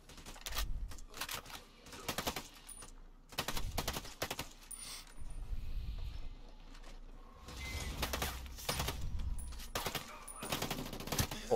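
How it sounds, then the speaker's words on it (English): Gunfire in the tactical shooter Ghost Recon Breakpoint, fired through a wall during a raid, arriving as several rapid automatic bursts separated by short gaps and mixed with game sounds and low voices. "Shoot through the wall. Just hit him through the walls."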